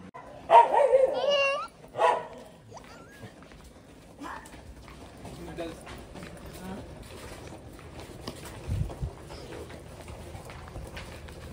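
A dog barks loudly a few times near the start, followed by a long stretch of quieter background noise with faint scattered sounds.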